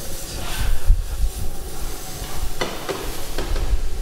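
Garlic sautéing over high heat in a pan for a veal saltimbocca Italian cooking class, with a steady sizzle, stirring scrapes and a few sharp clinks of utensil against pan.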